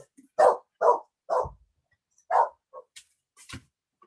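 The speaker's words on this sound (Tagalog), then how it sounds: "Medyo maingay yung aso." A dog barks loudly and close by in a string of about six sharp, separate barks with short pauses between them. No one speaks.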